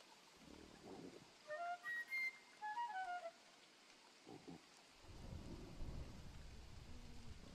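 Rain and rolling thunder from a stormy night in the Don't Starve video game, a steady wash of rainfall with low rumbles swelling near the end, while brief high whistling game tones chirp in the middle.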